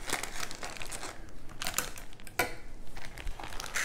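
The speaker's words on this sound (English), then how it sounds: "I'm just gonna go ahead and cut it open and put it in a bowl" Plastic pack of koji rice being cut open and emptied, with close crinkling and rustling of the plastic in short irregular bursts and a few sharp snaps, quiet, with no talking.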